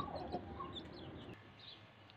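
Mother hen with her chicks in a yard: soft, faint clucks and a few thin peeps over low background noise, brief and fairly distant.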